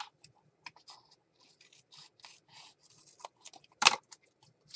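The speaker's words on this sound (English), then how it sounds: "I'm going to cut off the excess." Scissors trimming excess paper during a mixed-media craft session: a handful of short, crisp snips and rustles spread across a quiet room, with one louder, sharper cut near the end.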